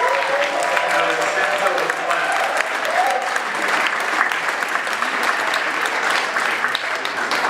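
Steady, loud applause from a large crowd at a Rocky Horror Picture Show 40th anniversary celebration, clapping densely and continuously throughout with some cheering mixed in.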